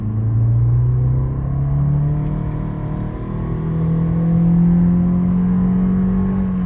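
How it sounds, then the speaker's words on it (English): A 2022 Toyota C-HR XLE under full-throttle acceleration: a loud, steady engine drone heard from inside the cabin, holding and slowly climbing in pitch. No talk. "And I'm gonna give it full throttle."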